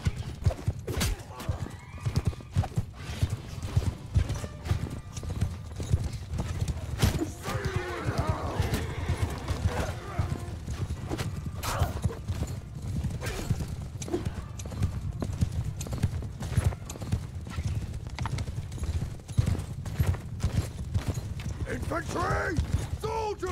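Horses gallop in a Mount & Blade II: Bannerlord battle: dense, steady hoofbeats with sharp whinnies and neighs, heard throughout under shouted voices and clashing battle noise.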